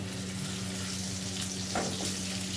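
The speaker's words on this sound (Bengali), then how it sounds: "পেঁয়াজটা ভেজে নেবো এবারে একসঙ্গেই দিয়ে দেবো" Chopped onion frying in hot oil in a pan, with prawns fried beforehand, gives a steady close sizzle throughout, and a brief stir or clatter comes near the end.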